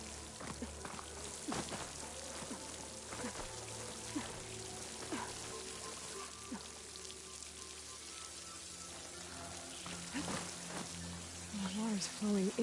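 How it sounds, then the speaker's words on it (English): Flowing water in the video game Horizon, a steady watery wash like rain or a trickling stream running throughout, with a voice talking over it. "The water's flowing into the wall."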